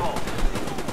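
Rapid machine gun fire from an MG4 with a thermal sight in the video game Modern Warfare 2, a fast burst of loud repeated shots over one second, with a voice talking over it.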